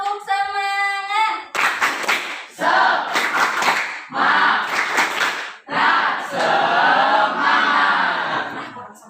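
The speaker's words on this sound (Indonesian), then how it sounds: "coba tepuk semangat." A group of children claps the rhythmic tepuk semangat pattern, loud bursts of patterned hand claps in repeated phrases with short gaps, preceded by a brief sung or chanted tone.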